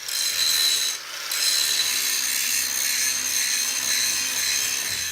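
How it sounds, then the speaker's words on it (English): An angle grinder fitted with a grinding disc works on scrap metal for an anvil horn, giving a continuous high-pitched whine and hiss with a brief dip, steady and close. "I've got the grinding disc on the grinder now"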